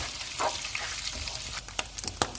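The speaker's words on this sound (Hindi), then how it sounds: "इसे हम इतना फ्राई करेंगे कि लहसुन का कच्चापन खत्म हो जाए।" Finely chopped garlic and ginger fry in a pan, giving a brief, fairly quiet steady sizzle with a few small crackles and scraping stirs.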